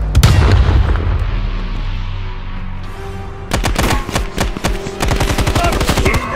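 Grenade explosion and gunfire in Call of Duty Black Ops Cold War: a heavy blast opens and rumbles away, then a loud stretch of rapid automatic gunfire follows in quick bursts.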